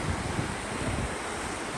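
Phoksundo river water rushing down from Phoksundo Lake in Lower Dolpa, a steady, dense roar of flowing water with wind buffeting the microphone, unbroken and fairly close.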